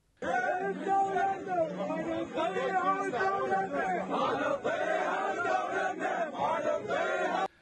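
Militia members massed in a Baghdad street chant slogans together, a dense, continuous wall of rhythmic crowd voices that holds steady and loud throughout.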